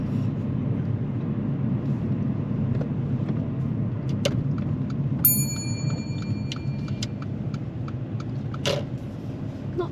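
A car pulls in and parks on the left during a driving test, its engine a steady low rumble throughout with a few light clicks and brief ticking on top.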